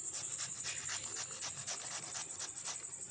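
Mangoes rubbed firmly by hand, a steady rhythmic scrubbing and rasping with repeated strokes, close and alone.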